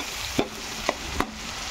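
A utensil stirs sautéed tomato, onion and ginger in a pan, three quick scraping knocks spaced under a steady sizzle of frying.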